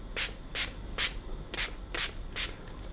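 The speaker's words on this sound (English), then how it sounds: "I'm going to spray that just to make the paint flow a little bit more." A hand spray bottle misting water onto watercolor paper, six short crisp hissing bursts in an even rhythm, close and quiet with no voices.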